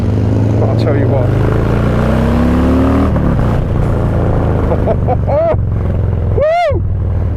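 Harley-Davidson Low Rider S motorcycle engine revving loudly with a rising pitch, dropping briefly, then climbing again in a sharp rev near the end, heavy wind rumble throughout and a voice talking over it.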